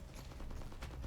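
Rapid automatic gunfire from the Fatalzone video game plays as a quick, faint run of evenly spaced shots lasting about a second.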